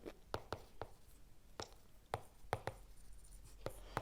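Marker or chalk tapping and scratching on a board during a chemistry lesson, a dozen or so short sharp strokes in irregular rhythm, close and fairly quiet, with no talking.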